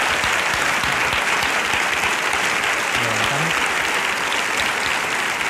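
A studio audience breaks into spontaneous applause during a television interview with Spain's Secretary of State for Finance, a dense, loud and continuous clapping that runs throughout without a pause.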